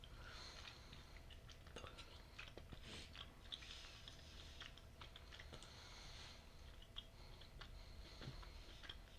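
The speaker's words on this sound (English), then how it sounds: "We're just having a snack. If you hear something." Soft crunching and clicking of people chewing a snack close to a microphone during a recording session, continuous and faint against a constant background hiss.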